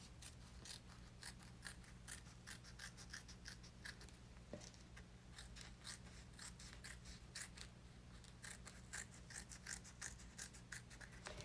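Scissors snip steadily through vinyl in a stream of close, quiet, rapid cuts, trimming around an in-the-hoop embroidered koala purse with no talking.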